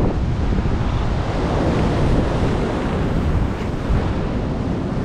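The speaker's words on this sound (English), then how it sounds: "This is slippery and the waves are coming right up." Ocean waves surge and wash up over slippery, moss-covered rocks, a loud continuous roar of surf close by, with wind buffeting the microphone throughout.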